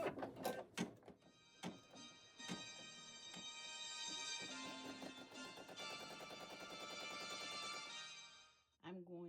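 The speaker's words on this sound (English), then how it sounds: "I'm going to select the green button to start the machine, and it's going to stitch out the placement stitch first." Brother SE1900 embroidery machine running a placement stitch in a 5x12 repositionable hoop: a few sharp clicks as it starts, then a steady, close mechanical whirring with rapid regular ticking that stops abruptly near the end.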